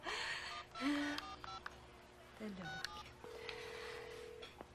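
Touch-tone telephone keypad beeps in a short irregular sequence of dialed digits, close and clear, with people talking around them.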